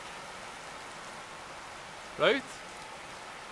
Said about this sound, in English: Crazy, crazy rain